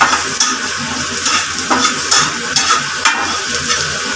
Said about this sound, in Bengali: পেঁয়াজগুলো আমার বাজা হয়ে যেতেছে